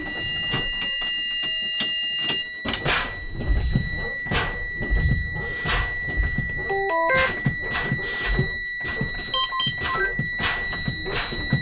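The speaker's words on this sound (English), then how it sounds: "my warning came on. See, park and brake." A bus's parking brake warning buzzer sounds as steady high beeping tones over cabin rumble, alongside scattered knocks and clatter, with no talking.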